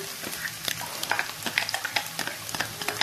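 Onions stir in a frying pan, scraped and tossed with a utensil in quick, uneven strokes, each scrape standing out over a soft, low sizzle close by.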